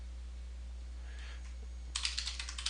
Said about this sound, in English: So now we do sudo, type in my throwaway password.